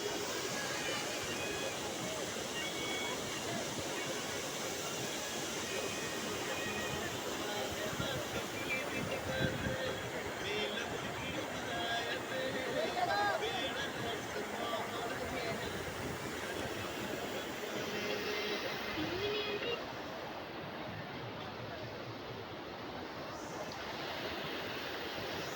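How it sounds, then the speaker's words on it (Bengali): Usri Falls in Jharkhand pours in the dry winter season, making a continuous broad roar of falling water that holds steady, with faint voices in the background. "সেই উস্তির ঝর্ণা এটা।"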